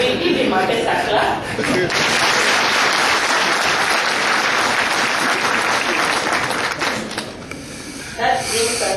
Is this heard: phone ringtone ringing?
no